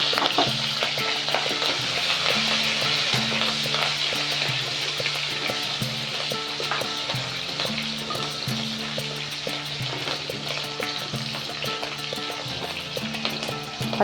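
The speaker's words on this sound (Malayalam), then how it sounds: "പച്ചമുളക് ഒന്ന് മൂത്തെടുത്താൽ മതി." Cumin seeds and chopped green chilli fry in hot oil in a pan, a loud, dense, continuous sizzle and crackle running unbroken throughout, close up with no talking.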